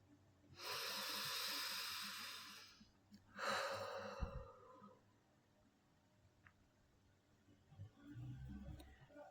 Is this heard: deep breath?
yes